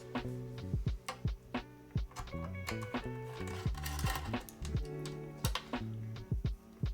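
Typing on a custom Bias DE mechanical keyboard: crisp, close key clacks in irregular bursts with short pauses, each stroke sharp and distinct, with a faint hollow ring behind them and no talking.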